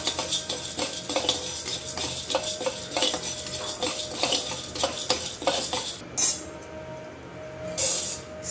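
Urad dal, chana dal and spices such as cumin, curry leaves, coriander and dried chillies dry-roasted in a pan for Karnataka-style vangibath powder, with a steady scraping spoon and metallic clinks as the mix is stirred.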